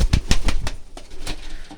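Pigeons coo close by in soft, throaty bursts, with a few sharp flutters and scuffles near the start and a steady murmur underneath.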